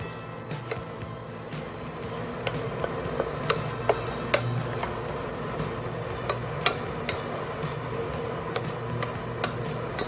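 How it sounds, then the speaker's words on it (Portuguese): Choux pastry dough sizzles and crackles softly in a hot pan, a steady frying hiss dotted with small pops and the occasional tap of a utensil. "ouvir o som da massa fritando"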